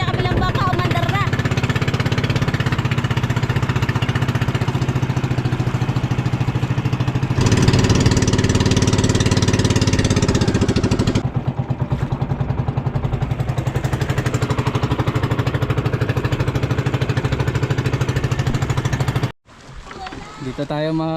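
A boat engine runs steadily after being started, a loud continuous mechanical chugging with a strong low hum that carries on for most of the stretch before cutting out near the end, with people talking over it.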